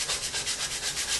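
A sanding pad rubs back and forth along the edge of a putty knife to knock off burrs, making quick, even, close scraping strokes in a steady rhythm.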